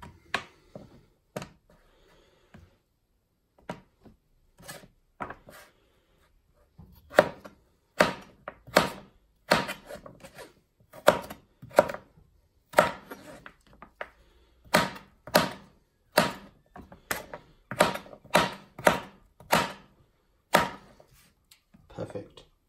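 A knife chopping butternut squash into cubes on a cutting board, sparse thuds at first, then a fast, irregular run of close, crisp knocks.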